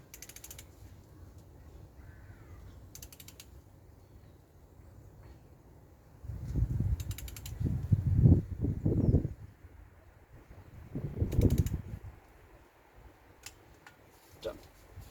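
Torque wrench on a short 3/8 bar with an E12 socket tightening K-Series cylinder head bolts on a Rover 45: two close bursts of ratcheting, creaking mechanical clicks over a quiet background.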